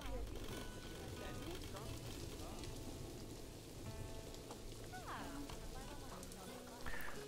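Steady rain falls across a Planet Zoo park in the game, a constant broad hiss of drops on surfaces running evenly throughout, with game chirps and a voice talking over it.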